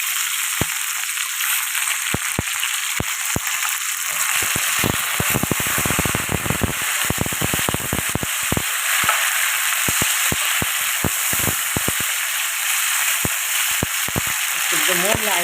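Vegetables for moussaka frying in hot oil, a steady loud sizzle with sharp crackling pops scattered throughout, close up, while someone talks over it.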